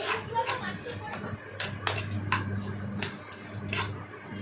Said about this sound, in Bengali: সেগুলোকে ভালো করে ভেজে নিলাম।